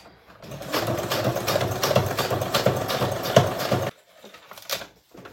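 A sewing machine fitted with a Microtex needle stitches coated fabric in a loud, close, fast mechanical whir for about four seconds, then stops, leaving a few soft clicks and handling noises.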